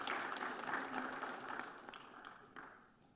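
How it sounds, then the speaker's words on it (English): An audience at a Commonwealth intergenerational dialogue in Kigali claps in a fairly quiet, distant round of applause that tapers off over a few seconds, with a few louder claps near the end. "Another round of applause for the Excellencies"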